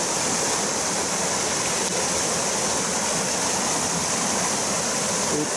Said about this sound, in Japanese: 立派な砂防ダムですが、ちょっと流れがちょっと早いかなって気がするんですけど